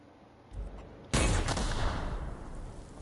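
A launcher weapon in The Outer Worlds fires with a sudden loud burst after a short lead-in, then a long rumbling tail fades slowly with no voices.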